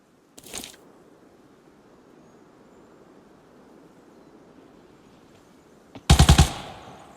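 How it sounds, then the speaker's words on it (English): Gunfire erupts from behind the player in the mobile shooter Arena Breakout: one short crack early, then after a quiet stretch a loud, close burst of rapid automatic shots near the end. "Shooting from behind."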